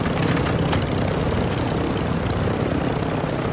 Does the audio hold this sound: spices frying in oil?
no